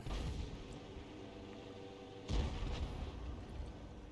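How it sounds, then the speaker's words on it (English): A single heavy boom from a self-propelled artillery gun firing a shell in a tank video game, followed by a rumbling decay over steady low engine drone. "Okay, now he's ready to shoot."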